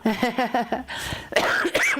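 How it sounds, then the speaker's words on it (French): Someone coughs several times in a quick row, short harsh bursts, followed by throaty, raspy sounds close to the microphone. "Le soir, en général, je tousse beaucoup plus que la journée."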